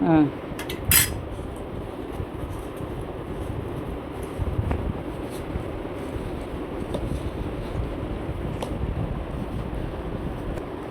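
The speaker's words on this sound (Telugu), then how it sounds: "ఇది కలపడానికి కావట్లేదు కాబట్టి చేత్తో కలుపుతా." A vegetable snack mixture is mixed by hand in a bowl. Soft, continuous rustling and handling noise runs throughout, with a few brief metallic clinks at the start and occasional faint knocks.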